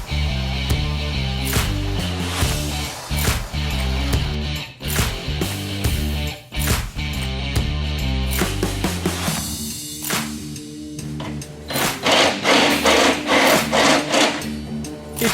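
A drill bit grinds through sheet metal spot welds on a car body panel, a continuous harsh cutting and rasping sound with shifting pitch and bursts, loud and close, no voices.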